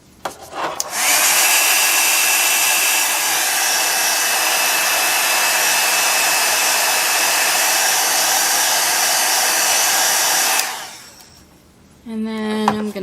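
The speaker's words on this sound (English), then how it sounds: "I'm going to hit this with my heat gun." A heat gun blows on resin in cabochon molds with a loud, steady whooshing roar for about ten seconds before it switches off, followed by a short voice.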